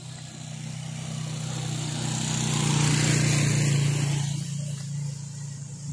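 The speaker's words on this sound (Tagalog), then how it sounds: "Motor sa ngagi." A motorcycle passes on a rural road lined with coconut trees, its engine drone swelling and then fading over a few seconds, steady and fairly close, with no talk over it.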